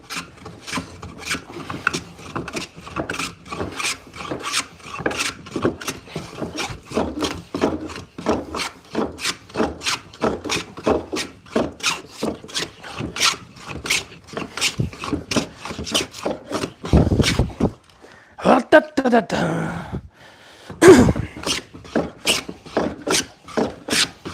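A hand rasp files split chestnut wood for a gate latch in a woodworking shop, with rhythmic back-and-forth strokes repeating steadily, close and clear, pausing briefly near the end before a few more strokes.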